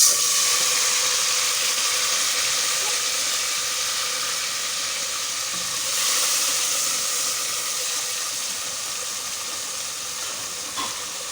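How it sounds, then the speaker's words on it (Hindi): Golden garlic in hot oil sizzles as tomatoes are added for methi aloo bhujia, a steady bright hiss with faint stirring, close and continuous without talk. "ये गोल्डन हो गया लहसुन, टमाटर डाल देते हैं"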